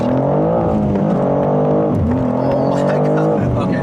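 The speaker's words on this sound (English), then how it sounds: "Let's try a first gear pull." A BMW M2 with the S58 engine pulls hard in first gear, a loud, steady engine drone with rising harmonics that dips and climbs again as the throttle is worked against lost traction, heard close from inside.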